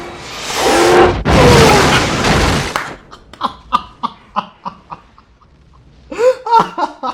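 A big movie explosion bursts loud and broadband for about three seconds, then gives way to a run of short, rhythmic laughing or chuckling voices.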